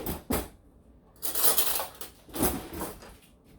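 A kitchen drawer pulled open to fetch a clean spoon or fork, with a few distinct clattering bursts of metal cutlery and wood, close and moderately loud against otherwise quiet surroundings.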